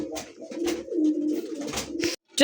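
Racing pigeons coo close by, soft throaty warbling calls repeating in quick succession for a couple of seconds, with no talking.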